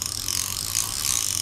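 A vintage French Cento fishing reel spins with a fast, steady ratchet clicking, a harsh, dense metallic buzz heard up close and alone.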